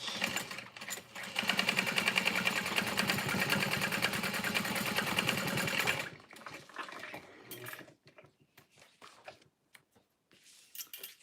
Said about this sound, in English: We're gonna sew through the seam allowance. And top stitch.